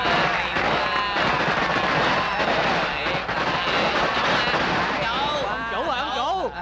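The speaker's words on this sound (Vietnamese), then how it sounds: "Đốt pháo." A long string of firecrackers set off during a ceremonial offering day, loud dense crackling and popping throughout, with voices and other sounds mixed in toward the end.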